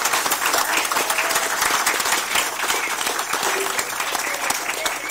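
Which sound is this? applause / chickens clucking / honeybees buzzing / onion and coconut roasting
applause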